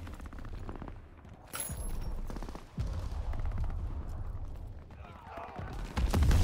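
MP40 submachine gun bursts in Call of Duty WWII, rapid rattling fire sounding in stretches with mechanical game effects, loud and close, alongside voices talking.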